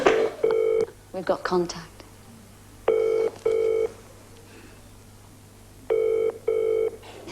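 A landline call placed on a 1987 British TV show rings out with a repeating double-burst ring tone, each pair about three seconds apart, after an opening tone. One voice speaks briefly between the rings.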